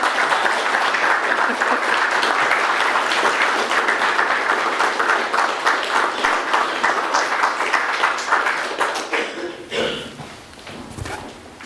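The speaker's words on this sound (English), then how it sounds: "Can we have a round of applause for Kiri?" An audience at an award ceremony gives a loud, dense round of applause that holds steady for several seconds, then thins out and fades into scattered claps near the end.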